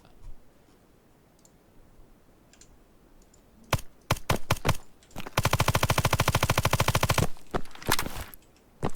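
Suppressed gunshots from a modded weapon in the video game Operation Harsh Doorstop, a few single sharp shots and then a rapid continuous burst of automatic fire, loud and close, with no talk.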